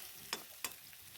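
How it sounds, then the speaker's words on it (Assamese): Hand-pounded ginger garlic paste frying in a pan until lightly browned for an Assamese dish: two quick stirring scrapes stand out over a quiet, steady sizzle. "এইখিনি মই অলপ ৰঙা হোৱালৈকে ভাজি থাকিম।"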